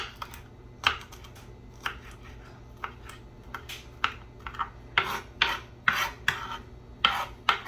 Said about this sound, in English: So yes, I'm going to cut these like this.